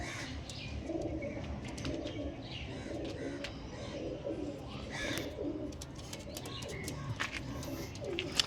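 Pigeons coo softly and repeatedly amid a steady, busy background, with occasional brief chirps from other birds.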